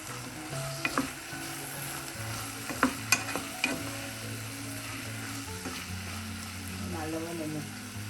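Sliced ladies finger and curry leaves sauté in a hot pan with a continuous sizzle, broken by several sharp clinks and scrapes of a spatula stirring close by.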